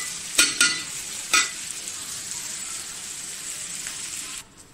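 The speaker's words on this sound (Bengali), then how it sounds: "পরিমাণ মতো লবণ দিয়ে কিছুক্ষণ নেড়ে চেড়ে উঠিয়ে ফেলব।" Okra frying in a pan with salt, a steady close sizzle broken by three sharp scraping stirs near the start, then continuous frying until the hiss cuts off at the end.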